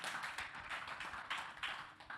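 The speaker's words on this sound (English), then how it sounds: "Let your applause reflect how much you have learned from this." An audience at a business talk on company culture claps, a quiet, continuous patter of many hands with soft swells, heard alone without voices.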